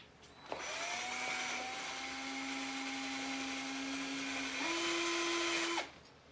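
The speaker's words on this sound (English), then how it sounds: "so I drilled a hole in the arm itself" A power drill bores a hole through the metal arm of a Reaper mini chopper minibike, its motor whining steadily for about five seconds and rising slightly in pitch near the end, loud and close with no talking.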